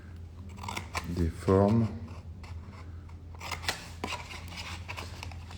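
Scissors cut out shapes during an architecture workshop, with close, crisp snipping strokes heard in several short runs while a person speaks French.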